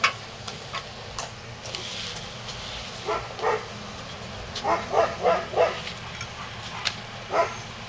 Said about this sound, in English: A tassel of puppies. They're coming along nicely.